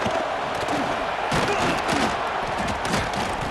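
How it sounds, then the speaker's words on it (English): Roaring stadium crowd at a college football game between Michigan and Oklahoma, a dense continuous wall of cheering with surging bursts. "listen to this crowd noise. This stadium is vibrating."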